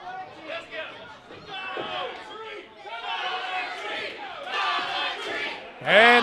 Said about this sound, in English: Crucifix encouraging the crowd to chant Dollar Tree at Wu